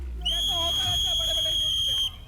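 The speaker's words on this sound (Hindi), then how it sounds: "और ये रेफरी की सीटी।" A referee blows one long, steady whistle to end a task in a game-show competition, loud and continuous for nearly two seconds over faint background voices and crowd noise.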